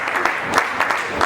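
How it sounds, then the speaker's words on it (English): An audience at a stage entertainment event claps for a performer coming on, a brief burst of fairly loud applause with a few sharper individual claps, and no talking over it. "Please keep clapping until she comes up"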